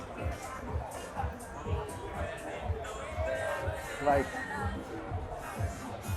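Busy Saturday-night street crowd in Provenza, Medellín, a steady outdoor hubbub of many voices and footsteps, people talking nearby throughout with a brief louder burst partway through.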